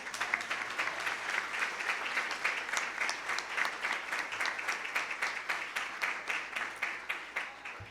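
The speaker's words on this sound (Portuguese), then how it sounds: "Pode aplaudir Jesus." A church congregation applauds with steady, dense clapping throughout, moderately distant and fairly quiet, with no voices over it.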